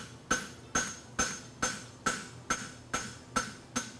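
A blacksmith hammers a hind draft bevel on a steel horseshoe, with nine sharp, ringing hammer blows in a steady, even rhythm, close and alone.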